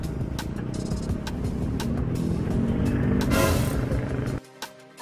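An eight-year-old Honda RS125 motorcycle accelerates on the road with a loud, continuous engine drone that rises slightly in intensity, then drops away abruptly near the end.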